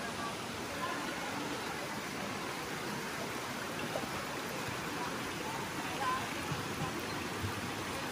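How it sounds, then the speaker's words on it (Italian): Constant broadband rush of falling water at the Tuorno waterfalls in Basilicata, Italy, a steady roar with no breaks, heard near and alone. "qua siamo giunti al punto della cascata"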